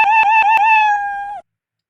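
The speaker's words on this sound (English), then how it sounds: "Too much meows, in my opinion." A cartoon cat meow sound effect from a Scratch clicker game project, a single loud, clear, slightly wavering tone lasting over a second and then cutting off abruptly into silence.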